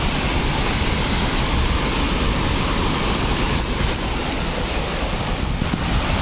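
A powerful waterfall at a quiet spot in Boston, Davao Oriental, gives a dense, steady roar of rushing water, loud and close throughout, with some wind buffeting and no voices.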